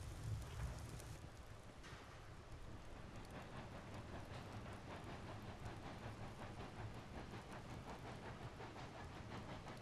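A train backs up in the Railroads Online game, a steady dense rumble with rattling wagon noise that runs unbroken and fairly faint from start to end, with no voices.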